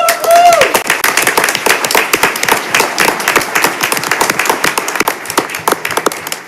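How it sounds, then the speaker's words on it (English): Audience at a school board meeting claps steadily for several seconds, a dense, even round of applause with no voices. "give him a round of applause"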